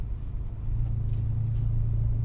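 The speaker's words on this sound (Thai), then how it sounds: "ปล่อยเบรกมารถวิ่งได้อยู่แล้ว" A car rolls slowly with the brake released during a driving lesson, giving a steady low engine hum and road rumble that swells slightly partway through, close and continuous without speech.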